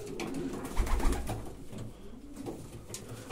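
Pigeons coo in low, throaty murmurs close by in a loft, overlapping in a crowded, rumbling chorus.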